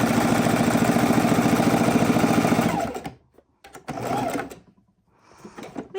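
A sewing machine runs a straight stitch along the edge of a pillow in a steady close hum for about three seconds, then stops. Two brief bursts of stitching follow as the fabric is pivoted, with no talk.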